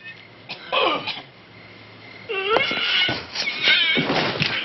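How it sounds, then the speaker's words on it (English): A brief cough sounds in the background of the 1971 film Play Misty for Me over quiet, eerie ambient tones, with a couple of harsher throaty bursts. "slightly offset by the cough in the background"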